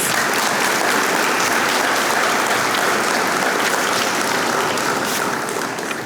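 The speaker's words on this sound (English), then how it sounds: "Let's give these students a round of applause." An audience at a high school awards day applauds honored students, a loud, sustained and dense roar of clapping that holds steady throughout.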